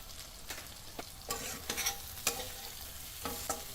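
Fried eggplant pieces for a dry eggplant curry stirred and sautéed in a pan, with a steady sizzle under repeated scraping strokes of a spoon at an irregular rhythm, close and moderately loud.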